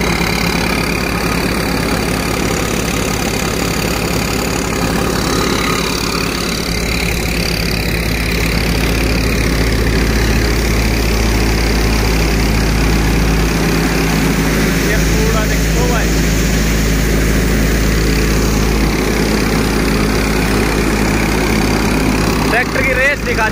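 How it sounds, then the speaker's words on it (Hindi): A Mukandgarh thresher machine, driven by a tractor, runs continuously, a loud steady mechanical drone with a deep rumble throughout, while someone talks over it. "भाई आज दिखाऊंगे आपने मुकंदगढ़ वाली थ्रेसर मशीन की सफाई दिखाऊंगे।"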